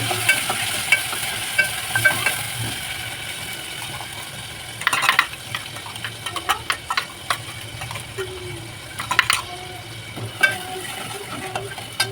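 Tomato and onion puree sizzles in a pan for Maharashtrian sukka chicken while a spoon stirs it, scraping and clinking in irregular bursts over a low steady frying hiss, close up, with no talk.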